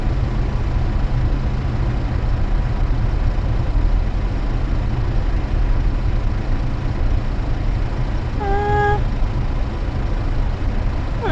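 A Rover P4 engine runs on fast idle, a loud, steady, low rumble close by for the whole stretch, with a brief tonal squeak near the end.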